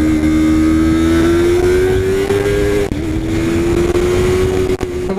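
Yamaha R3 motorcycle on the Interlagos circuit, its engine close and loud, revving hard with a rising high-pitched whine that climbs, dips briefly at a gear change, then climbs again.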